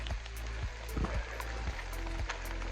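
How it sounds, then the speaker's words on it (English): Steady rain falls with a continuous soft hiss and scattered pattering drops, close by and uninterrupted, with no voices, on a mountain hike in the Catskills. "Well, we had our first heavier rain shower."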